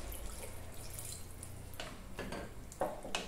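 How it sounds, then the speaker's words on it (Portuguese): Water trickles and splashes faintly into a pot of chicken broth on a home stove, a steady soft stream with a few small drips over low background hum. "Vou colocar mais um pouquinho de água"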